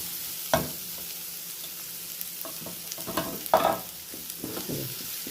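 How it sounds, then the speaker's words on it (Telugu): Garlic, ginger and green chilies fry in hot oil with a steady close sizzle, broken by intermittent scrapes and knocks of a spoon stirring the pan. "వేసుకొని వేయించుకోవాలి"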